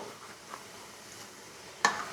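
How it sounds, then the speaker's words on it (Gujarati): Vegetable manchurian balls fry on a very low flame in oil with a faint, steady sizzle, then a single sharper clink of a utensil near the end. "અને એકદમ ધીમા તાપે ક્રિસ્પી તળજો."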